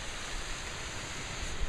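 Tsusiat Falls on the West Coast Trail, a continuous broad rushing roar of falling water heard from a distance, steady and unbroken with a faint high tone above it.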